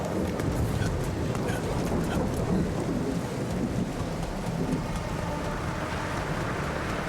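Stormy rain and thunder on an alien planet in the video game The Alters, heavy constant rainfall with a deep rolling rumble, loud and unbroken with no voices.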